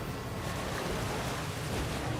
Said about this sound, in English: It's a tiny river.